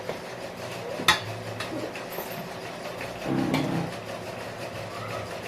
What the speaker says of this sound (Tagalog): Ihalo natin, guys, ang ating atsara.